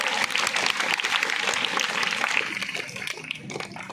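Classroom audience at a comic stage drama breaking into lively applause, dense clapping from many hands that holds strong for most of the stretch, then gradually thins and fades toward the end.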